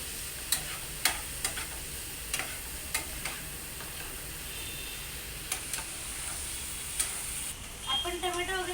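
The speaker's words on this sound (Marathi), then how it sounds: "त्याच्यामध्ये 1 चमचा लाल तिखट टाकूया. परत सगळं परतून घ्यायचं" Chopped tomatoes with red chili powder are stirred and sautéed in a pan: a soft sizzle underneath, with sharp spoon taps and scrapes at irregular intervals, all close by.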